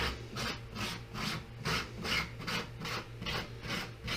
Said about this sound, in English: I use a glass pie plate, if you can see that. And I'm just going to try to scrape all this stuff out of here.